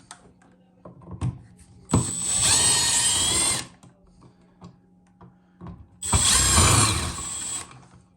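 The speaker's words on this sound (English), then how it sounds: "Looks like Phillips head screws, so we'll use our impact here." An impact driver backs Phillips head screws out of an electrical outlet cover plate during a GFCI swap, two loud, close bursts of rattling hammering about two seconds each, separated by quiet handling noises.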